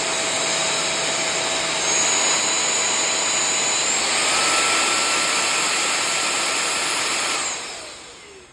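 Cordless vacuum cleaner with a 650 W brushless motor running steadily at close range, a loud high-pitched whine with shifting tones that holds for about seven seconds before winding down at the end.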